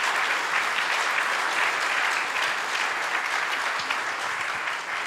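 An audience at the Hackaday Belgrade closing remarks claps steadily in a dense, even round of applause that carries on throughout without letting up.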